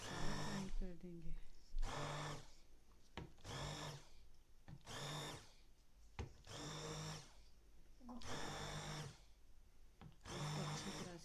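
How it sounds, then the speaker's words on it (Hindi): A hand mixer grinds spinach in bursts, its whirring motor starting and stopping about seven times in a steady rhythm, close and loud, with a person speaking in the pauses. "हम इसको अपने हैंड मिक्सर के साथ जो है वो अच्छी तरह हम इसको ग्राइंड करेंगे"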